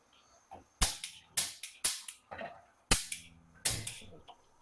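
A gas lighter gun clicking to light a stove whose auto-spark fails from a drained battery, about six sharp, close snapping clicks at irregular intervals.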